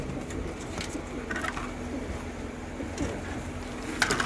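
Kasuri pigeons cooing in soft repeated throaty calls amid a busy, murmuring background with occasional light clatter, at moderate distance.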